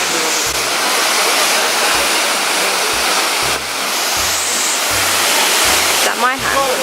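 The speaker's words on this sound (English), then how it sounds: "and you're even closer to the waterfall." Ouzoud waterfall in Morocco roars up close in a loud, constant rush of falling water, with a few low thumps of wind and a brief voice near the end.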